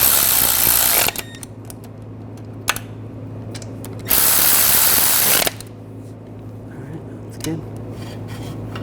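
Hand ratchet snugging down the rear wheel bearing bolts on a 2007-2013 BMW X5, short bursts of rapid clicking separated by quieter pauses with faint shop background noise, close by.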